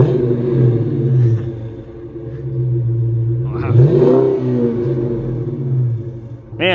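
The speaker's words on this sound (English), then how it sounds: "We're gonna fire this thing up so you guys can hear what it sounds like." A car engine fitted with a new exhaust rumbles loudly up close, with a deep, steady idle that swells into one rev partway through before settling again.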